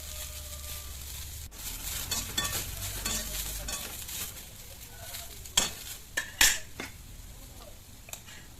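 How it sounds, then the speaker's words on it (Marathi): Cluster beans roast in oil in a kadai with a steady, fairly loud sizzle, joined by a few sharp scraping clicks of the spatula stirring toward the end. "शेंग दिलेली सगळी आपण भाजून घेऊया कढईमध्ये"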